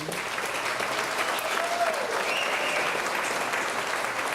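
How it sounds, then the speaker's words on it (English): Audience applause at the launch of NGC SANFEST 2014 in Trinidad and Tobago, a continuous dense clapping wash at fairly loud level, with a faint voice briefly emerging mid-way. "I think we should give the NGC SANFEST a real great round of applause"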